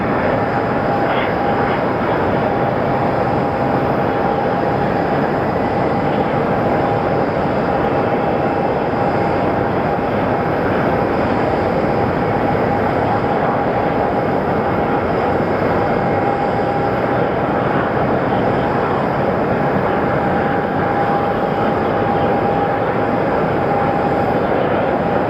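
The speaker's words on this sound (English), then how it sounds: "Sometimes these CRJs come in like missiles, but right now this one is taking its time." A CRJ regional jet landing at Sky Harbor Airport, its steady engine roar filling the air throughout with a sustained whine running above a broad rushing wash, loud and continuous from start to finish.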